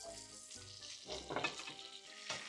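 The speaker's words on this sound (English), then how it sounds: "So I'm just going to continue to baste it." Ostrich steak being basted in a hot pan, with steady loud sizzling and frying crackle that swells in short surges as the fat is spooned over, close and continuous with no talking.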